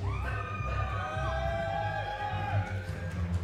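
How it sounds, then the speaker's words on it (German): Spectators at a powerlifting meet cheering for a 19-year-old lifter, with whoops and yells rising and falling over a continuous crowd murmur at moderate distance. "Kriegst Applaus aus der Menge."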